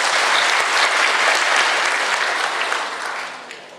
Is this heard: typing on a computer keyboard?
no